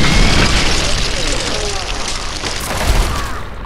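Rockets explode in Fallout 3, a loud, rumbling in-game blast with a second deep boom shortly after, heard under talking voices.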